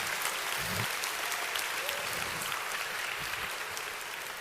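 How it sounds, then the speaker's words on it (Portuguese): Church congregation applauding at a sermon, a steady dense wash of many hands clapping that carries evenly through the whole stretch at moderate distance. "Se é para Jesus, você pode aplaudir"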